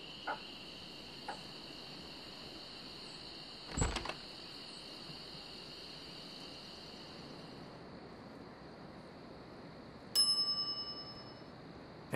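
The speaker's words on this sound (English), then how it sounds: "some idiot's already ringing that stupid bell" A shop counter bell in The Secret of Monkey Island video game rings twice, one soft strike early and a louder bright ding near the end, each decaying into a steady hum of insects and ambient game noise.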